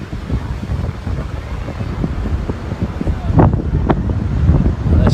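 Wind buffeting the microphone on Ortley Beach at high tide, a continuous loud rushing roar with gusts that strengthen toward the end and possible surf underneath.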